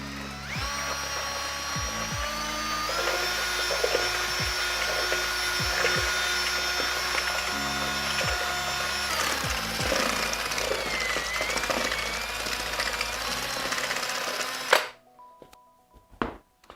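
An electric mixer churns microcement in a mixing vessel, a loud steady motor drone with brief knocks and pauses, close up, cutting out sharply near the end.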